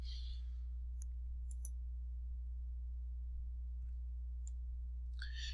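A computer mouse gives a few faint, sparse clicks over a steady electrical hum while a paper is submitted online, with quiet gaps between the clicks.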